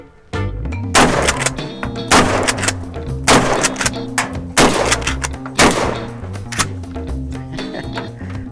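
Mossberg 590M Shockwave, a short mag-fed shotgun, fires full power loads in a rapid string of about six loud, close blasts roughly a second apart, each with a heavy boom and ringing tail.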